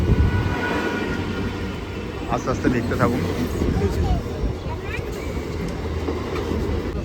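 A train pulling into a station for the run to Namkhana, crowded with pilgrims heading to the Gangasagar fair; a steady low rumble and rolling clatter runs throughout, loud and continuous beneath someone talking over it.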